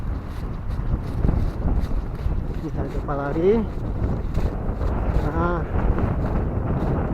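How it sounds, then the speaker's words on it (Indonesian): Strong wind buffeting a camera's internal microphone as the operator runs, a loud constant low rumble and roar with brief speech-like tones over it. "anginnya cukup kencang"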